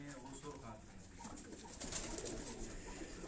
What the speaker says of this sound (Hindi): ये उनका एक पसंदीदा कबूतर मैं आपको दिखा रहा हूँ